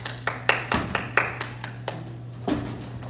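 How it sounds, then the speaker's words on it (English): A handful of people clap for actors after a David and Goliath skit, sparse, uneven claps close by over a steady low hum, trailing off into a few final slaps. "Let's clap for our skit characters more time."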